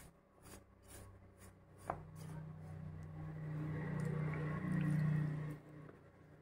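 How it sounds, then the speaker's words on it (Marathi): Dough for ukad shengole is kneaded firmly by hand, like stiff puri dough, with soft tapping and pressing at first, then sticky squishing sounds that build louder before stopping. "पुरीला जसं पीठ घट्ट मळतो तसं आपण आता हे घट्ट चांगलं मळून घेऊया"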